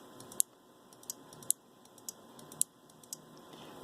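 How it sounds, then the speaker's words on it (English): Relays on a networked board toggled over MQTT click on and off alongside computer mouse clicks, giving a series of sharp, quiet clicks spaced roughly half a second apart, close by and alone without talk. "if I turn relay 1 on, it clicks and I get a light"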